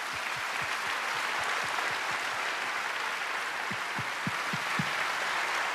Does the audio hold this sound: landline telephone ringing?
no